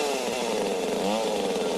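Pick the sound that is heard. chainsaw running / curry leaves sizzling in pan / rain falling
chainsaw running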